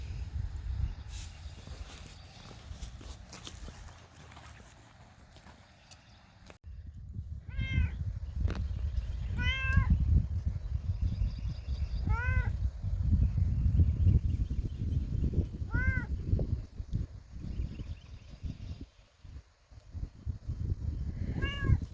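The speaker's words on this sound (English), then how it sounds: "our cat did come up. She finally, after I called her, she came up." A domestic cat meows repeatedly at close range outdoors in a vegetable garden, about six rising-falling cries spaced a couple of seconds apart over low background rumble.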